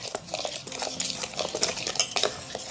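A spoon stirs cardamom powder into chibud (snap melon) juice sweetened with sugar, giving repeated light clinks and scraping taps against a vessel, close and steady over a soft background.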